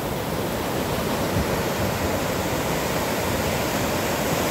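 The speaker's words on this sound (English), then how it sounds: "it's windy" Strong seaside wind at sunset, a steady broadband roar with surf-like rush, constant and loud throughout with no voices.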